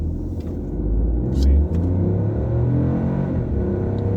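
2021 Citroën C3 accelerating in sport mode, a deep engine rumble heard from inside the cabin that swells briefly, with a short spoken word.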